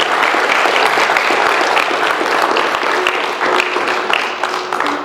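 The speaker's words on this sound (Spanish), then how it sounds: "Démosle un aplauso al Señor por su palabra" A church congregation applauds during a Sunday morning service, a full, sustained wash of many hands clapping with scattered sharper claps and a faint held tone underneath.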